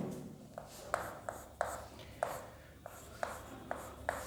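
Chalk or marker strokes on a classroom board during a chemistry lecture, a series of short sharp taps and scrapes at an irregular rhythm, close and fairly quiet.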